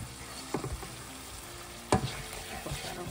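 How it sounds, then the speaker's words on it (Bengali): Spice masala fries in oil as it is cooked down until the oil separates, a quiet, steady sizzle broken by a few sharp spatula scrapes and knocks against the pan, with no talking. "কষাচ্ছি, মশলাটা অল্প অল্প তেল ছাড়তে শুরু করে দিয়েছে সাইড দিয়ে"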